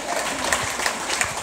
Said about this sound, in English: give everyone a round of applause for that great